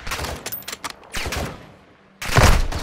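Bursts of gunfire in the Call of Duty Modern Warfare 2 campaign, rapid clusters of shots early, a quieter lull, then a heavy loud volley near the end.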